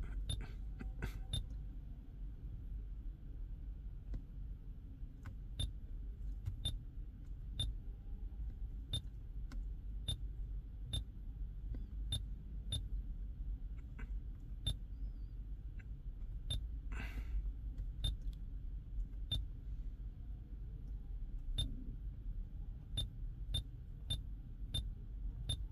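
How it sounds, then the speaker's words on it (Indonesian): Inside a Mitsubishi Xpander Exceed manual, a short electronic beep chirps repeatedly at a steady, clock-like interval over a quiet low cabin hum. "Ini bunyi yang bip-bipnya."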